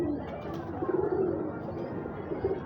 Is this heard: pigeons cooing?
yes